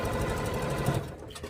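A sewing machine whirs steadily for about a second as green fabric pieces are stitched together for a holly tree skirt, then it slows and fades.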